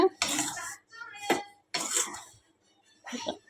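Rava laddu mixture is stirred in a pan on the stove, with four separate bursts of scraping and clinking from the spoon against the pan, spaced by short pauses.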